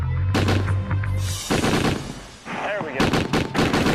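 A large gun firing in several loud, booming bursts with crackling echoes between them, as a crew member takes over shooting, and someone speaks briefly between shots.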